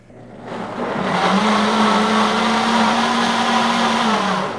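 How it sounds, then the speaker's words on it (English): A countertop blender runs steadily on a fruit puree and pulp for a barbecue recipe, starting up and holding a loud, continuous whirring drone throughout. "I'm gonna give it a good amount of time so that the pieces of that puree, that pulp, will blend evenly."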